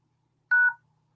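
A single telephone keypad tone, one short clean beep from pressing a key at a voicemail menu, isolated against silence.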